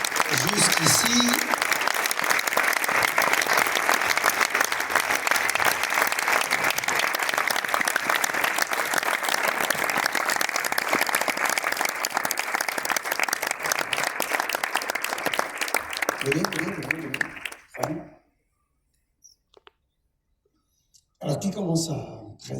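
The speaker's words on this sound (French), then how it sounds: "Encore plus fort, on peut applaudir quand ils arrivent jusqu'ici." Loud, sustained applause from a festival screening audience in Cannes as guests walk up to the stage, running unbroken for most of the span before stopping abruptly, followed by a short silence and brief talk.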